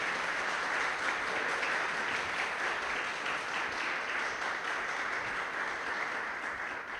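Church congregation at a celebration service applauding steadily for about seven seconds, a dense even wash of many hands clapping, moderately distant and sustained without talk.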